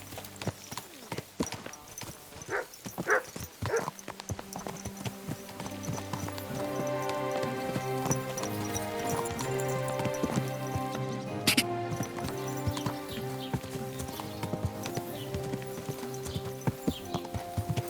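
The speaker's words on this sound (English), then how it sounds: "Do you want that horse to trample me?" Rhythmic clip-clop of horse hooves with a brief whinny in the game Kingdom Come: Deliverance II, set over steady game music that swells partway through.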